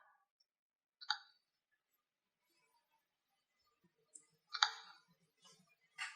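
Icons pressed on a home wall pad control panel give a few short, sharp electronic clicks or beeps, spaced irregularly with quiet gaps between them, close and clear.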